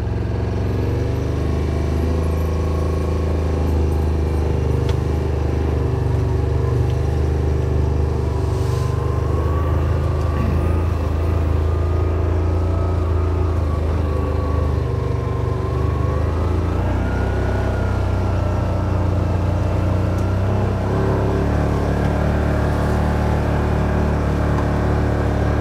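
A Yamaha Wolverine RMAX4 1000 side-by-side climbs a steep trail hill, its engine droning loud and steady throughout, with pitch rising slightly as it pulls under load.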